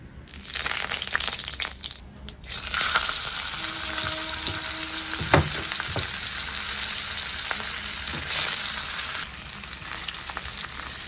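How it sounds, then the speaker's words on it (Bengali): Kokila fish frying in hot oil in a wok on a gas stove, a steady close-up sizzle and crackle that starts with a sharp hiss and holds for several seconds. "কড়াইতে দিয়ে দিলাম তেল। মাছটা সর্বপ্রথম ভেজে নেব।"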